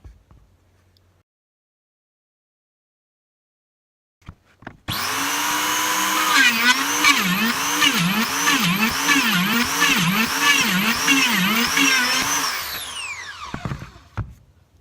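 A dowel boring machine spins up and drills into wood, a loud, steady high-speed whine with a rhythmic pulsing as the bit cuts, running for about eight seconds before winding down.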